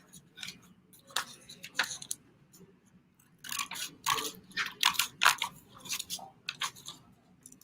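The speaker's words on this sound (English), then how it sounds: "I'm gonna just go ahead and cut down the side. So these scissors are good for detail small work" Small detail scissors snip through paper while papel picado is cut, giving a string of close, crisp cuts in uneven bursts with short pauses between them.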